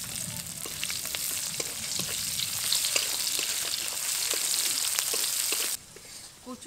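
Chopped onion hits hot oil already tempered with a bay leaf, black cumin and three slit green chillies, giving a loud, steady sizzle with scattered crackles that cuts off near the end to a quieter hiss.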